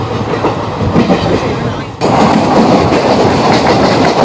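Kanchanjungha Express, the 13173 train between Sealdah and Agartala, rolling steadily along the rails near Bolpur Shantiniketan with a continuous rumble and clatter that swells louder after a brief dip midway.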